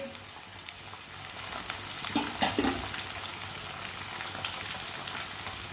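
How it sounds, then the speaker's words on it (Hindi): Small pieces of washed chicken liver frying in a hot pan, a steady sizzle throughout with a brief stirring clatter midway. "कलेजी को भी 2-3 मिनट के लिए भून लेंगे।"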